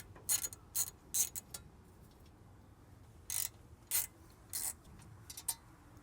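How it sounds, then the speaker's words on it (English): Ratchet wrench working 10mm bolts on a Toyota Sienna radiator fan, sharp rapid clicking bursts in two clusters separated by quiet pauses, close and otherwise alone. "I'm gonna try to remove those two 10mm bolts"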